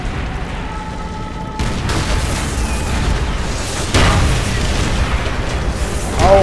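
Explosions from rockets striking a tank in Call of Duty: World at War, heard as a series of loud booms and rumbling blasts that swell at the start and again midway, with the sound continuing dense and loud throughout.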